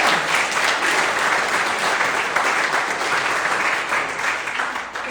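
Members of a Bikram yoga studio in San Jose clap at its 20th anniversary celebration, a thick, even roar of many hands that stays steady and loud throughout with no break.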